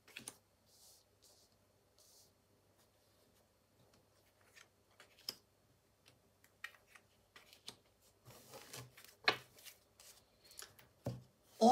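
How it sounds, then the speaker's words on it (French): Tarot cards are shuffled for a five-card draw, producing soft, scattered riffling and flicking that grows busier and louder toward the end, with sharp card snaps amid near-silence. "le tirage des 5 cartes"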